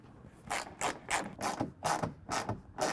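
A 10mm socket ratchet tightens wheel well guard hardware on a 2023 Ford F-250, giving about seven close, evenly spaced bursts of clicking as the handle swings back and forth.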